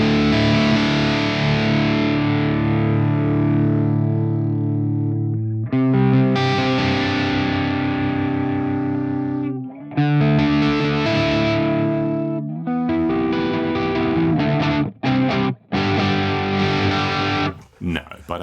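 An electric guitar runs through the ML Sound Lab ROOTS V2 amp plugin at very high gain, with loud, thick, distorted chords ringing in long sustained phrases and broken by short chugged stops and abrupt gaps.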